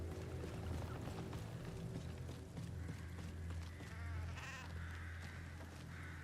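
Sheep bleat in the video game Mortal Shell II, a few wavering calls rising over a dense, rumbling game soundscape, moderately close.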